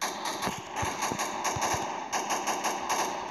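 Steady rapid gunfire from a video game rattles on without a break, loud and close, with mechanical clatter and a constant hum underneath.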